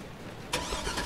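A V8 car engine in the video game Tales from the Borderlands turns over and catches halfway through, rising into a loud, steady idle rumble after a quiet lead-in.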